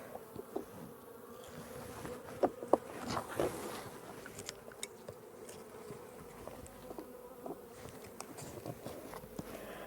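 Honeybees in a small nucleus hive, a steady, close, low buzzing hum with scattered faint taps and crawling sounds, quiet and continuous throughout.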